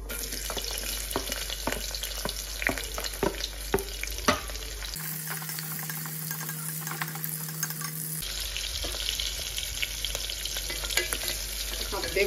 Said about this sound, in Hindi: हम डालेंगे कटा हुआ प्याज,